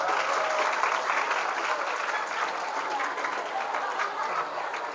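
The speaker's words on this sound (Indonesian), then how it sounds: "Tepuk tangan buat antum semua hari ini." An audience applauds at a motivational seminar held at an Islamic boarding school in Indonesia, steady sustained clapping from a large crowd, even and loud throughout with no voices on top.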